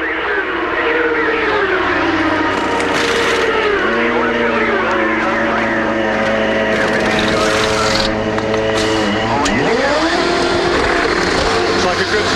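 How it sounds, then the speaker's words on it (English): A Champ Car race car slows into pit lane at 50 mph during a race at Las Vegas, its engine note rising and falling loudly through downshifts, with a commentator talking over it throughout. "Paul will peel into the Forsyth Championship Racing pit"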